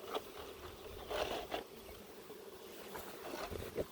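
Honey bees newly released from a package swarm around a hive with a mated queen, their soft, steady buzzing filling the air, close and quiet, with a few louder passes near the ear and no talk.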